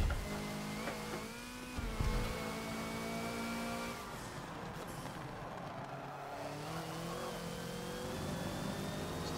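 A Hoonigan Focus race car's engine revs and accelerates in the Forza video game on the Rio National Track, a steady mid-pitched drone rising and falling with gear changes, loud and continuous throughout without talk.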